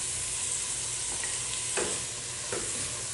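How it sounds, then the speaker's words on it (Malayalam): Sliced tomatoes sautéing with marinated chicken masala in a pan for Kerala-style chicken biryani, a steady close sizzle with a few soft scraping stirs, no talking. "അതുപോലെ നന്നായിട്ട് വഴറ്റി കൊടുക്കുക"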